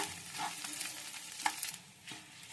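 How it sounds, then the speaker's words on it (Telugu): Dried red chillies frying in oil for a mint chutney, a faint, soft sizzle with light scraping of a stirring spoon in a pan, close but quiet, with no voices. "ఫ్రెండ్స్ ఇలా బాగా కలర్ వచ్చే వరకు వేయించుకోవాలి ఎండుమిర్చి"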